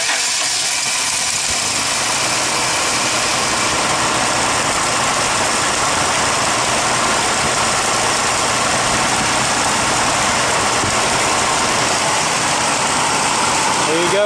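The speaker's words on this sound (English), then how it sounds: "So we'll go ahead, hit the key." A 1964 Plymouth Valiant with a new electronic ignition cranks and catches, then settles into a steady, loud, rough idle nearby. No one talks over it.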